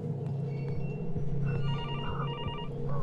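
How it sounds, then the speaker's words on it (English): An old-style telephone bell rings in the horror game Infliction, repeated trilling rings over a low droning ambient hum and faint footsteps, moderately loud and steady. "I'm coming to pick the phone up right now."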